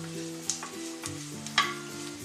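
Grated coconut and cashews frying in a pan, a soft steady sizzle broken by a few sharp scraping stirs of a spoon, close and fairly quiet with no talk.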